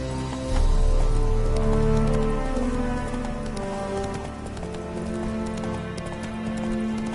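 The horse Roach galloping in a video game, rapid rhythmic hoofbeats pounding close and loud over a sustained musical score throughout.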